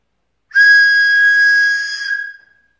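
After a short silence, a handmade wooden whistle blows a single piercing note clearly for about two seconds at a steady pitch, then fades out.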